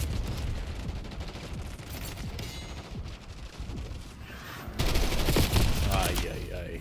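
Scattered gunshots and crackling bursts of fire from a video game shooter, moderately loud and continuous, with a heavier volley near the end.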